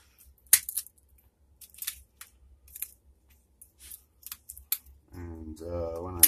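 Wires of an EG Athens e-bike battery pack BMS lead are snipped during a rebuild with Samsung INR18650-29E cells, heard as a series of sharp, close clicks and snips in near silence. A person then starts talking.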